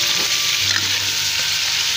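Chicken fries hard in hot oil, a loud close sizzle that hisses steadily throughout, with faint stirring scrapes underneath and no voices.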